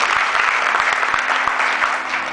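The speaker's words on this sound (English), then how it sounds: "Give an applause to ASG with their idea." Brief burst of applause from an Earth Day summit audience for a native plant garden project, even and fairly close clapping with no talk.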